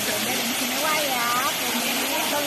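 Dlundung waterfall in Trawas, Mojokerto, a constant dense roar of falling water, loud and steady throughout, with a voice speaking over it.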